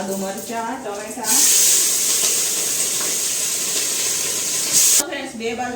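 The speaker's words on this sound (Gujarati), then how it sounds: "બે બાજુ વઘાર થઈ ગયા છે. આ બાજુ આપણે ટમેટાનો વઘાર થઈ ગયો, આ બાજુ તો દાળનો વઘાર થઈ ગયો." Loud steady sizzle and hiss of a Gujarati tempering of tomato and dal hitting hot oil with chillies and ginger, filling the middle of the clip, with speech before and after.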